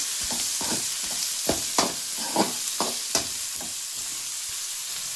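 Onions, tomatoes and curry leaves sautéing in a pan for fish curry, a steady sizzle broken by several sharp scraping stir strokes at irregular intervals, close and alone without any voices.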